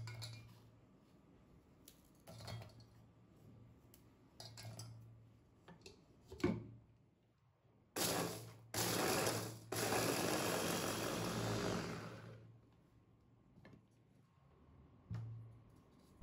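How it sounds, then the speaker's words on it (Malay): A food chopper grinds cookies finely: light clinks and clatters lead into a loud continuous whirring grind of several seconds, followed by a few quieter knocks, with no speech. "Cookies ni saya hancurkan guna chopper,"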